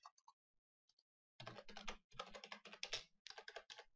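Computer keyboard typing, a few faint isolated clicks followed by a dense run of close, crisp keystrokes with brief pauses, ending with more key presses including Enter.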